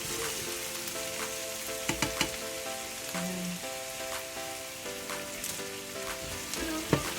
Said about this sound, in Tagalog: ilalagay na natin yung ating mga beef na pinakuluan